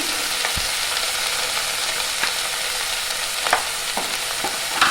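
Vegetables with salt and turmeric fry in a pan with a steady close sizzle while a utensil stirs them, scraping and clinking in occasional short knocks, with no voices.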